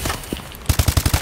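A Peashooter gun in the Call of Duty: Advanced Warfare multiplayer game fires a rapid burst of about eight loud, evenly spaced shots after a brief quieter lead-in.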